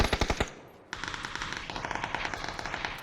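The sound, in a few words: gunfire in the video game PUBG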